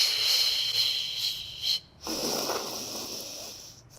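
Loud, forceful breathing during an intermediate Pilates magic circle workout, with a steady hissy exhale and a brief pause near the middle before another long breath, heard close up.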